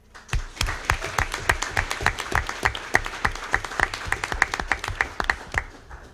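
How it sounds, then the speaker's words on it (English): Scattered applause at a school board meeting for award recipients, a modest room of people clapping at an uneven rhythm with individual claps clearly audible. "let's give them another round of applause"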